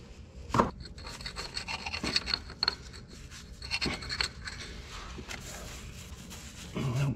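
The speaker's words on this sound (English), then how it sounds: "Guess maybe I just need to scrape." Someone scrapes crud off a metal weld, producing quiet, uneven rubbing and scratching strokes with a few sharper knocks, close by and without talk.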